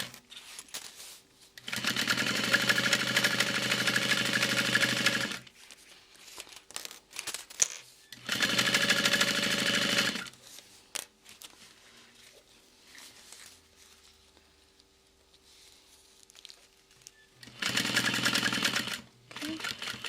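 Sewing machine topstitching a messenger bag gusset: three steady runs of fast mechanical stitching, each a few seconds long, separated by quieter pauses with faint handling noise.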